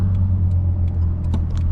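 Nissan Skyline R32 GTS-T being driven, its engine a steady low rumble heard from inside the car, with no change in pace across the short stretch.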